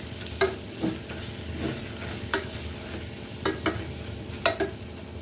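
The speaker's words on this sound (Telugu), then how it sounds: "ఇప్పుడు వీటిని బాగా కలుపుకొని 1 నిమిషం ఇలా వేపుకుందాం." Egg biryani masala with garam masala and coriander powder being stirred and fried in a pan, a steady sizzle under a handful of sharp scrapes and clinks of the spoon against the pan, no voices.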